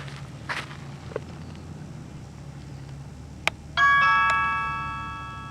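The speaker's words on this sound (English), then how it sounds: "And that was my phone." A phone sounds outdoors in a garden as a bright electronic chime with a sustained ringing tone, heard fairly close after a few quiet rustles and a soft tap.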